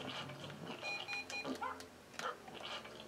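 A dog in The Grinch video game gives short whimpering yips and barks amid game sound effects, with brief tonal beeps; the sounds are fairly faint and scattered across a few seconds.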